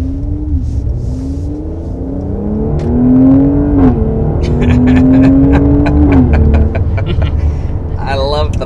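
A 2022 Mercedes-AMG GLC 43 engine revs up and down in rising and falling surges, then breaks into a rapid burst of crackling exhaust pops. The sound is close and loud, with no clear talk.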